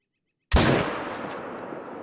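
A .300 Magnum rifle fires once at a bull in the hunting game Call of the Wild: after a short silence, a single sharp, loud blast hits and rolls into a long echoing decay.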